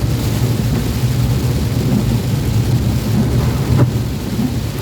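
Heavy typhoon rain pours steadily and loudly in a continuous roar, with a low rumble of thunder beneath it and a brief louder burst near the end.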